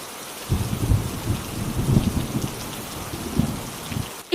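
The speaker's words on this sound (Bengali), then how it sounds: "এই বৃষ্টি তো কয়েকদিন থেকে থামছেই না" Heavy rain pours steadily on surfaces while low thunder rumbles through it, loud and continuous, ending with a sudden abrupt burst.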